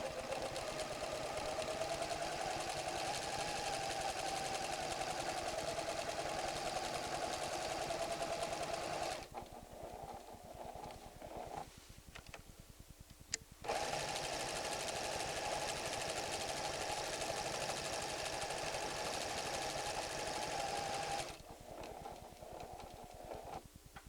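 A PFAFF creative 7550 sewing machine stitches a flower pattern in long, even runs of steady whirring, close and clear, broken by short pauses with faint clicks between the flowers.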